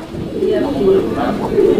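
Pigeons at a fancy pigeon sale give soft low cooing, a couple of rolling coos close by, with a person talking at the same time.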